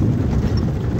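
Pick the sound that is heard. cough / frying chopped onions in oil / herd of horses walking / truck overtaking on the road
herd of horses walking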